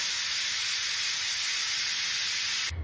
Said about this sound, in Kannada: cooker whistle ಎಲ್ತಿದೆ